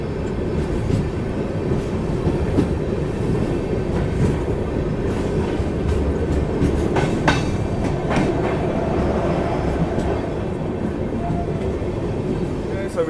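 A Rajdhani Express train runs on the tracks at night, heard from inside a first AC coach as a loud, steady rumble with rhythmic clickety-clack of wheels over rail joints.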